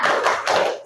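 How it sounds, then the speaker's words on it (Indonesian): A school class claps the 'tepuk semangat' cheer together, a short, busy burst of close, rhythmic hand claps that lasts under a second. "Tepuk semangat terlebih dahulu."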